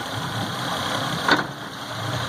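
A Yamaha V6 fuel-injected outboard engine idles in forward gear after water was flushed from its fuel system, giving a steady, continuous mid-pitched drone with one brief louder blip partway through.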